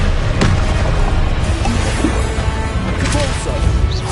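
A Confringo spell in Hogwarts Legacy detonates in a loud, dense booming blast amid continuous spell-combat noise, with sharp cracks and pops scattered over a heavy rumble.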